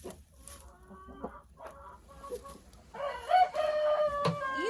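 Hens in a winter chicken coop cluck and cackle near the nests, starting sparse and building into a busier, louder chorus of calls with a rooster-like note among them.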